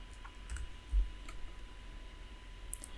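Quiet computer keyboard typing and mouse clicks while laying out a vinyl design for a baby milestone disc, a few soft scattered taps and one slightly louder click, with no speech.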